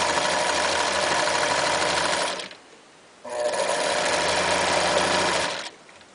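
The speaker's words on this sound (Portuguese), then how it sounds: "Juntamos as 2 laterais e vamos de volta para a máquina de costura." An electric sewing machine stitches closed the side seam of a fabric rag doll, running in two loud steady bursts of rapid whirring separated by a short pause.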